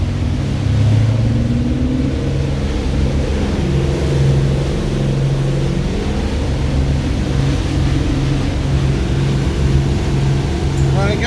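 Boat engine running at full power at around 17 knots on a water test, a loud steady low drone with a constant rumble and a speaker talking over it.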